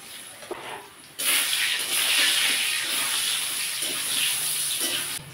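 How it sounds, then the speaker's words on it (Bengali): Potatoes frying in hot oil with turmeric and salt give a loud, steady hiss that starts abruptly and keeps up close by without a break. "তেলের মধ্যে আলুটা একটু ভেজে নেব"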